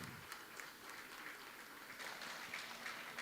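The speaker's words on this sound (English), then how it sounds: "Let us congratulate with a warm round of applause." Faint, steady applause from an audience at a science congress valedictory session as award winners are honoured, distant and continuous.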